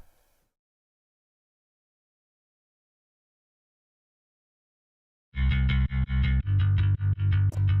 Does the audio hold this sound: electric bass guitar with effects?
yes